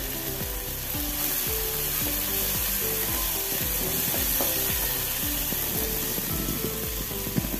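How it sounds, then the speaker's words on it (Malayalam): Curry leaves frying in hot oil in a pan with softened tomato, a loud continuous sizzle and crackle close up, with repeated scraping stirs throughout. "കുറച്ച് കറിവേപ്പില ചേർത്ത് കൊടുക്കുക."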